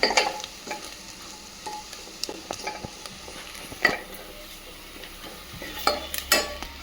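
Homemade masala fries in oil for a sprouted horse gram curry, a soft steady sizzle broken by frequent spoon scrapes and taps against the pan, close and quiet.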